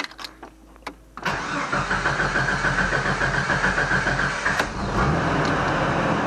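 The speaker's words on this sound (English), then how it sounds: "cranks for a little bit, but runs smooth." Jeep Comanche pickup engine cranking with a few clicks, then a short starter whir before it catches and settles into a steady, rhythmic idle, loud and close with no talking.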